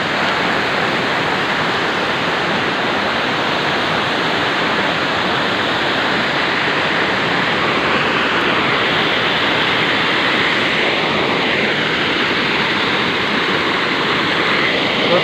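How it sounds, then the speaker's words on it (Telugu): A small waterfall swollen by heavy overnight rain pours steadily in a dense, unbroken rush of water, loud and close, with no break for the whole stretch. "మరి చూస్తున్నారు కదా, ఒక జలపాతం, చిన్న జలపాతం."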